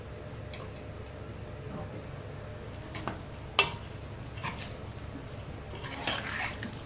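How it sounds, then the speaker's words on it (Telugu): A ladle stirs chicken biryani marinade of pepper powder, ginger garlic paste and oil in a bowl. Soft scrapes and squelches carry irregular small clicks, with a sharper knock midway and clatter near the end. "మీకు అలవాటు ఉంటే ఇలా గరిటతో కూడా మిక్స్ చేసుకోవచ్చు"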